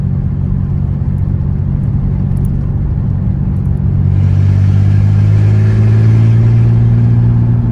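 A 1993 Chevy S10 pickup with a starting-and-dying problem is driven at operating temperature, a loud steady engine rumble with road noise that swells as it accelerates partway through.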